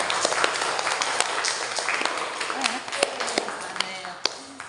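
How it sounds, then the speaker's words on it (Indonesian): A classroom full of people claps in a dense, steady patter of many hands, with scattered voices mixed in throughout. "Tepuk tangan kelompok 4."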